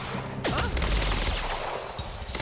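A burst of SMG fire in the Quantum Break video game, loud and close, a rapid fusillade that quickly drops off to scattered impacts and ambient noise.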